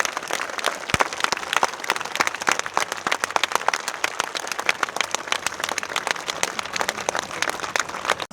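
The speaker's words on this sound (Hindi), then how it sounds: "जोरदार तालियां" Loud, sustained clapping from a large audience at a motivational business seminar in Varanasi, steady and dense throughout with crisp individual claps standing out.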